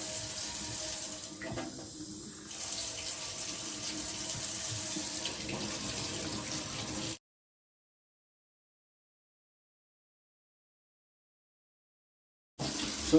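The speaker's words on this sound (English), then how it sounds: "Keep the water running on warm." Warm water pours steadily from a kitchen tap at a little pressure, giving a constant close rush that cuts out abruptly into silence and then briefly returns.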